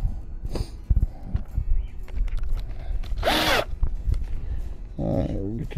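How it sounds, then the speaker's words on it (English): A power drill bores a pilot hole in a wooden top bar swarm box, heard as a short whirring burst near the middle, with handling knocks and clatter around it. "All right, get this first pilot hole drilled."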